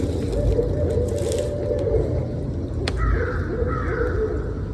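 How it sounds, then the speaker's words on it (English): Agitated crows caw in Florida woods near the Everglades, a few harsh calls rising over a loud, steady rumble of wind or handling noise, fairly distant and partly masked. "All the birds are up in arms about us being here."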